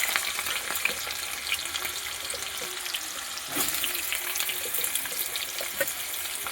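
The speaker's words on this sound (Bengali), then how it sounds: "প্রথমে দেখুন কাঁচকলাগুলো দিয়ে দেবো তেলের মধ্যে।" Raw banana pieces frying in hot oil, a busy close sizzle and crackle that swells briefly midway, with no talking.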